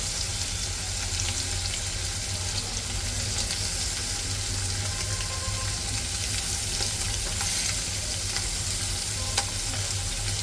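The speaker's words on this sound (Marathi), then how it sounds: "सावकाश ॲड करायची मच्छी, नाही तर तेल आपल्या अंगावरती उडू शकतो." Maharashtrian-style fish fry, fish pieces frying in hot oil in a pan, give a loud, continuous close-up sizzle with scattered small crackles and pops throughout, no talking.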